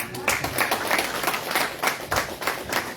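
Church congregation clapping steadily in a dense, continuous burst of applause at moderate loudness, a few voices mixed in.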